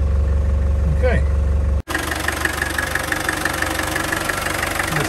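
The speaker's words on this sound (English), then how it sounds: "200 TDI engine just doing what it's supposed to." A restored 1988 Land Rover 110 Defender soft top with a 200TDi diesel engine idling steadily and close by, a constant low diesel rumble with a slight knock that carries on unbroken after a brief cut.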